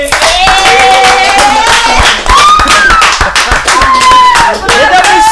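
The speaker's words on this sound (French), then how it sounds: "Et on acclame pour les derniers." A live crowd at a French quiz-show club match applauds the last team, with loud, dense, continuous clapping throughout, close and energetic, with voices mixed in the crowd.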